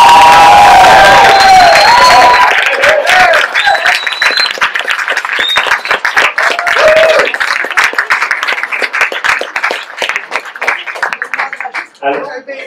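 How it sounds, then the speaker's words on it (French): Wedding guests applaud and cheer the newlyweds right after the vows, a loud dense crowd with high excited voices that thins toward the end. "Et on peut applaudir les jeunes mariés."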